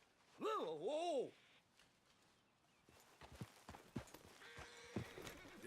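A horse in the Red Dead Redemption 2 video game gives a loud whinny at the start, then its hooves clop unevenly on the ground with scattered rustling and game ambience behind.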